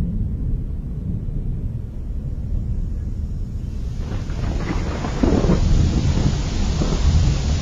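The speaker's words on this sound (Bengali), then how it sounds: "এই রে, জোরে বৃষ্টি শুরু হয়ে গেল যে" A cartoon thunderstorm builds from a low, steady rumble of thunder into a hiss of heavy rain that swells and grows louder partway through, with no voices.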